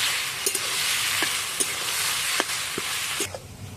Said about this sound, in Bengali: এরপর নুনটা দিয়ে বেশ ভালো করে কষে দিচ্ছি